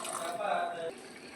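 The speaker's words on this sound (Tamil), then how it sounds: "நான் கொஞ்சமாக ஒரு 1/4 டம்ளர் தண்ணி சேர்த்துக்கிறேன்" Water poured from a quarter tumbler into a frying pan of crab fry, a brief bright splash and sizzle for under a second, with a softer hiss trailing off afterward.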